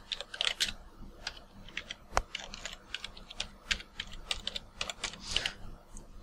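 Fingers typing on a computer keyboard to enter Google account login details, a quiet irregular run of light clicky keystrokes close by, with no voice.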